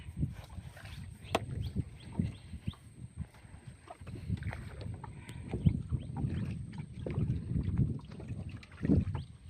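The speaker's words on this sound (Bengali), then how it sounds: "নৌকাটা নিয়ে চলে যাচ্ছে সামনে" A small wooden rowboat moves along a Sundarbans river, with irregular knocks and splashes of oars and hull under steady wind noise, close to the microphone and continuing throughout.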